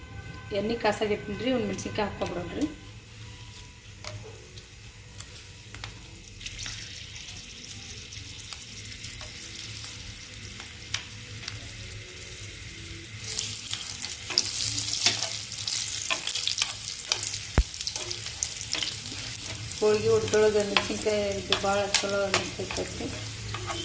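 Sun-dried curd chillies (mosarugaayi) frying in hot oil, a steady sizzle that runs throughout and grows brighter and louder in the second half, with someone speaking briefly at the start and again near the end.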